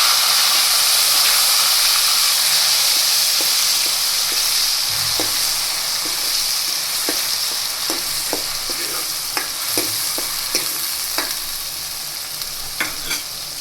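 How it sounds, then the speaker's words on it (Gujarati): Ginger, chili and garlic paste frying in hot oil with cumin and asafoetida for a palak paneer base, a steady loud sizzle and hiss with occasional stirring clicks and pops throughout. "આપણે જે આદુ મરચાં અને લસણની પેસ્ટ કરી છે તેને એડ કરી દેશું."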